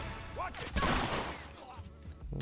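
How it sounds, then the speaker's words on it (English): Shotgun blasts in The Last of Us multiplayer Factions mode, a sharp burst of gunfire with a booming tail, moderately loud amid game effects. "Shotgun."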